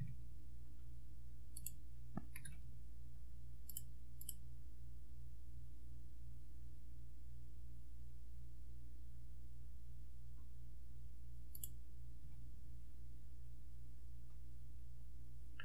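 Sparse, sharp mouse clicks in software, a few isolated taps spread across the clip over a steady low hum, with no talking.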